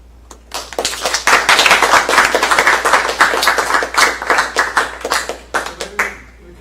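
A small audience applauds at the end of a lecture on supervised learning methods, with distinct, crisp hand claps close by that swell quickly, hold steady and then thin out to a few scattered claps.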